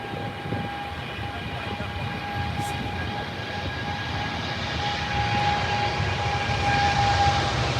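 Jet airliner engines rated at 115,000 pounds of thrust, heard from a planespotting spot at Heathrow: a steady, loud roar with a high whine that keeps building over several seconds, with no talk.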